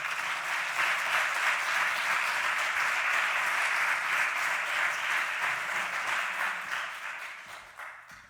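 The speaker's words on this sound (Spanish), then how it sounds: "Un aplauso para el doctor Martín" Audience applause at a scholarship award ceremony in CaixaForum Zaragoza, a dense, steady wash of clapping that holds loud and even before fading out near the end.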